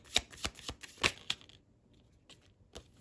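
Tarot cards shuffled by hand in several quick riffling bursts, close and crisp, with a short pause before a final flick.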